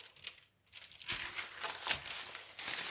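Transparent paper crinkles and rustles while a diamond painting kit is unboxed, a few short handling bursts that grow louder toward the end.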